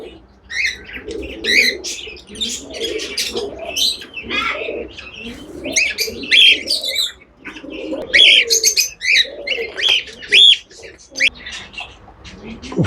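Pigeons coo in repeated low, soft rolls at a loft, with busy high chirps and tweets from other birds layered over them and occasional wing flaps, all at moderate volume with no talk.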